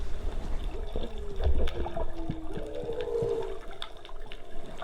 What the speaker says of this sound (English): If you're wondering what those weird moaning noises are, they are whales, and that is exactly how they sound when they're close by underwater